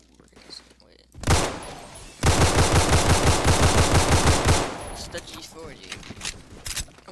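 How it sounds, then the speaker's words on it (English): A shotgun fires in a video game: one sharp blast, then a rapid run of repeated booming shots lasting a couple of seconds, loud and close, with a person talking quietly before and after the shooting. "Shotgun."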